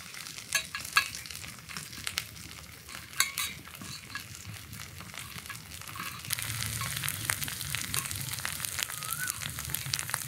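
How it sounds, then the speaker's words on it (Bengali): Boned baim fish flesh frying in a kadai, a soft continuous sizzle punctuated by repeated clicking stirs and scrapes of a spatula, growing a little louder and denser in the second half. "মাছের কাঁটাটা ছাড়িয়ে মাছটুকু কড়াইতে দেব"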